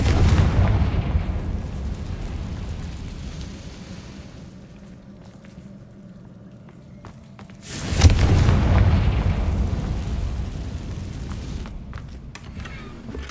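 Confringo fire spell in Hogwarts Legacy: a rumbling blast fades to a low drone, then a second sharp, loud explosion bursts out and rolls into a sustained, heavy rumble.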